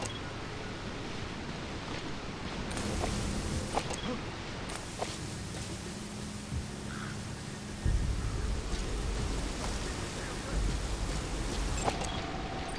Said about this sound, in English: Caution, rain approaching.